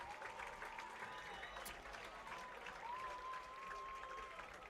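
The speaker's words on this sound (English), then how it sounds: "As a round of applause being given to the Saints" A high school football crowd at a St. Mary's Saints home game applauds, a faint, distant wash of clapping throughout, with a steady tone and occasional noise over it.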